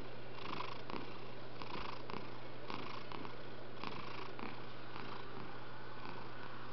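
A cat purrs steadily and up close, with soft rhythmic pulses repeating about once per second, while it lies drowsy and lazy. The purring is quiet and heard alone, with no talking over it.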